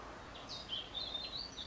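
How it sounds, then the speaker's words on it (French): Several birds chirp and whistle outdoors in spring, thin high calls overlapping over a steady faint background hiss, moderately quiet and without any voices. "il y a plein d'oiseaux autour de moi."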